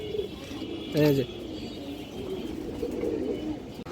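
Young home-bred pigeons coo in a short low rolling burst among a flock of kept fancy pigeons, brief and fairly near, with someone speaking just before it and soft background noise throughout.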